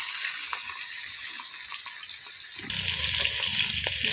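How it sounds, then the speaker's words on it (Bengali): Bhangan fish fry one by one in a pan, making a steady high hiss that swells midway into louder, fuller bubbling and spitting. "এইভাবে মাছগুলো একে একে ভেজে নিতে হবে।"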